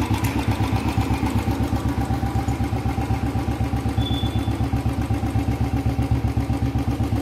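A Royal Enfield Bullet motorcycle engine with a misfiring problem idles steadily and loudly up close, its single-cylinder thump beating in an even rapid rhythm throughout.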